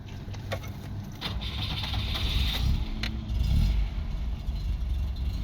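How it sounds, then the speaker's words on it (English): A 1985 FSO Borewicz car, not yet warmed up and with the choke already off, idles with a mid-pitched engine clatter and briefly rises in a couple of modest revs, heard nearby at moderate volume. "It revs very nicely, but it will probably idle still a little"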